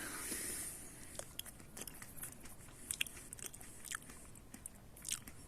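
Close, quiet crunching as a crisp Zhuravlyonok hybrid grape berry is bitten and chewed, with a series of small sharp cracks over a few seconds.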